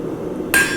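A single sharp hammer blow rings out on tapered metal during blacksmith forging, close and loud after a quiet lead-in, with a bright metallic ring trailing off.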